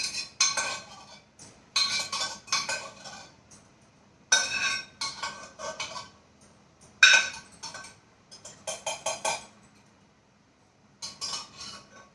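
A spoon scrapes and clinks against a metal pot of chana dal in short bursts with pauses between, close by and fairly crisp.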